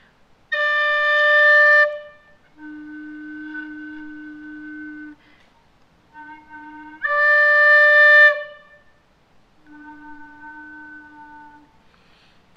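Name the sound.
tin whistle low harmonic, all holes and end hole covered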